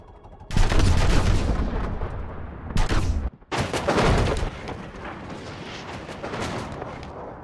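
Heavy gunfire from Call of Duty WWII multiplayer in a WWII setting: loud bursts and booming shots start abruptly, break briefly around three seconds, then resume as a dense, continuing barrage that slowly eases off.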